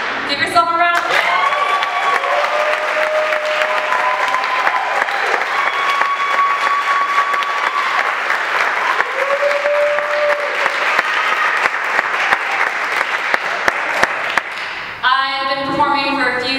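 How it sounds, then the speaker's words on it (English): Audience at a poetry performance giving a round of applause, loud dense clapping with some cheering that runs for about fifteen seconds before fading out, with brief voices near the end. "Give yourself a round of applause"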